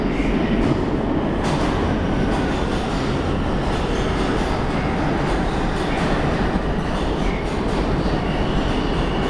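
An R142 subway train arrives at Atlantic Avenue–Barclays Center station in Brooklyn, bound for Flatbush Avenue, with a loud, continuous rumble and rattle of wheels and cars. There is no talk over it.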